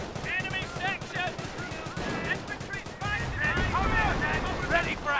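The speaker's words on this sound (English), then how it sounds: "this machine gun placement will actually get another burst off" Machine gun fire crackles from an emplacement in the World War II strategy game Company of Heroes, rapid bursts layered in a dense, continuous battle din with other clatter and effects.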